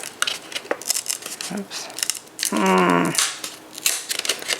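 A 12-in-1 dial paper trimmer slices paper in a short scraping stroke, with a few small clicks and taps before it and a brief spoken exclamation nearby.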